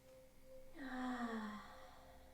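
A single deep inhale in child's pose during a gentle yoga practice, a soft rising breath that swells and holds for about a second before fading, quiet and close with no talk.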